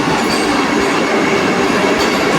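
A long Vande Bharat train passes a station platform, its cars rolling by like a goods train in a loud, steady rumble with rail clatter and faint wheel squeal, continuous and close throughout.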